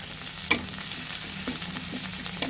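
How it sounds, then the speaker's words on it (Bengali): Ginger-garlic paste goes into a wok of frying onions and cumin, sending up a continuous close sizzle with sharp clinks and scrapes of a spoon as it is stirred. "আধা চা চামচ পরিমাণ আদা রসুন এর মাঝে দিয়ে দিব।"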